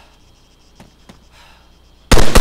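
Gunfire in the video game Arma III: a sudden loud burst of shots erupts near the end after a quiet stretch with faint clicks.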